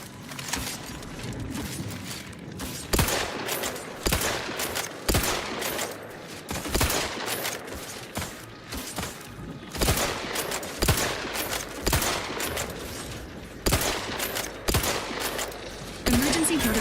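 Sustained video game gunfire from The Outer Worlds 2, rapid automatic bursts and single heavy shots crackling repeatedly in a dense battle, loud and close, with occasional voices underneath.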